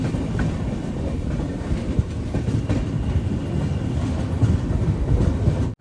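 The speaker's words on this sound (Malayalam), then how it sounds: "നർമ്മദാപുരം റെയിൽവേ സ്റ്റേഷനിലേക്ക് ഇതാ ട്രെയിൻ എത്തിക്കൊണ്ടിരിക്കുകയാണ്." A passenger train, the Grand Trunk Express, pulls into Narmadapuram railway station with a continuous loud rumble and rhythmic clatter of wheels over rail joints, heard close up without talk.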